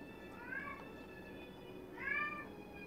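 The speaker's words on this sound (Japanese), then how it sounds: "なんかニャーニャー言うとるな。" A cat meows twice, a drawn-out call and then a second, slightly louder one about a second and a half later, both moderately near over quiet room tone.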